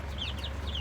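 Backyard chickens in a small city homestead flock make a few soft, quick clucks and squawks, faint and close together, with no one speaking.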